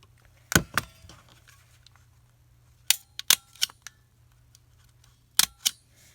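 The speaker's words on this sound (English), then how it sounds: "I'm going to go ahead and staple this" Stapler pressing through junk journal pages, several sharp snapping clacks spaced unevenly over a few seconds, close and crisp against a faint low hum, with no talk.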